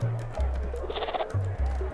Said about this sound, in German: Oh, eine Ziege.